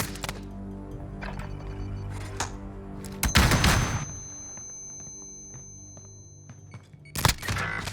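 Gunfire from an online shooter game sounds as several sharp, close bursts, with one loud burst near the middle and another at the end. Quieter game sounds and a steady hum fill the gaps.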